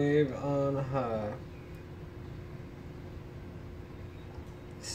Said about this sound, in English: Microwave on high.